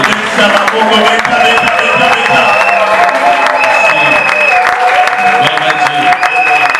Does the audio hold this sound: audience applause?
yes